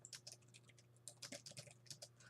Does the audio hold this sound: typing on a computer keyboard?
yes